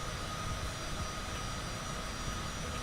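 A Cessna Citation business jet in a flight simulator game cruises with a steady, faint whine and rumble of its engines, an even drone with no voices.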